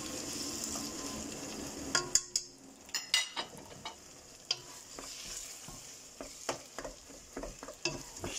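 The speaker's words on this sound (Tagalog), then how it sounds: "Mix lang po natin ng ayos." Pumpkin pieces get stirred in a pan, a low sizzle at first giving way to a quiet stretch broken by repeated sharp scrapes and clinks of a utensil against the pan.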